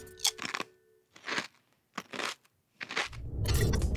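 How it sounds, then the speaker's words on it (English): Close, crisp crunching in several short bursts with quiet gaps between, like someone chewing crunchy food, ending in a louder rustling crackle. "Some people even experience ASMR from the sound of chewing."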